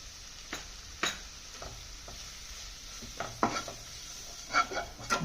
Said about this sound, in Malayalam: നല്ലോണം മിക്സ് ചെയ്തുകൊണ്ടിരിക്കണം.